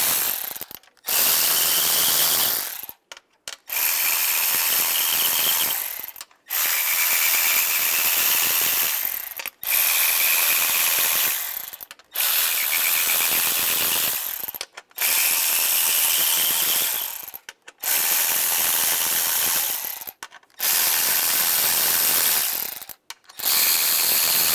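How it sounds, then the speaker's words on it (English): Ratchet with a 13mm socket loosening the cylinder deactivation manifold bolts on a 2007-2013 Chevrolet Silverado 1500; a loud, rapid clicking runs in bursts of a few seconds each, separated by short pauses, with no voices. "take my 13mm socket and just loosen these all up"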